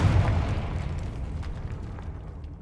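Spell explosions from Bombarda and Confringo in Hogwarts Legacy: a loud booming blast up front, followed by rumbling debris that slowly fades with a few faint crackles.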